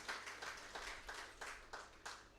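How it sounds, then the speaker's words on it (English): A conference audience at a Uganda industry meeting claps for a panelist. About seven distinct rhythmic clap bursts sound at a steady pace, faint and distant, with nothing else prominent. "Another round of applause for our panelist,"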